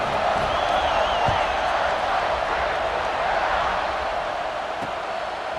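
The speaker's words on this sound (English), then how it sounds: "this crowd is feeling themselves after that last drive" Stadium crowd in the EA Sports College Football 26 video game roars during a kickoff, a steady, loud, dense wash of cheering that holds constant and eases slightly toward the end.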